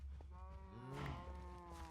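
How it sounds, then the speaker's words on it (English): Cows in Minecraft mooing, a low drawn-out moo rising and falling over the faint lowing of more cattle, soft and a little distant, no talking. "Oh, wow, that's a lot of cows."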